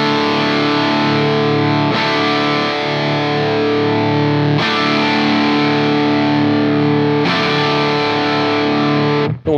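Electric guitar played through a Mary Cries pedal with the compression turned fully up and the output gain at the middle: loud, thick, heavily distorted sustained chords that ring on for a couple of seconds each, changing about every two seconds, then cut off abruptly at the end.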